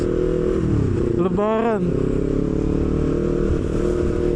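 A motorcycle engine hums steadily beneath ongoing conversation, with a brief rising rev in the middle before settling back to a constant drone.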